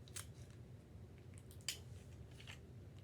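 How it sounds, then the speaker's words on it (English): Scissors snipping a strip of tape during a simple paper-plate craft, a few short, quiet cuts spaced out over a soft background hum. "You're going to cut off some tape."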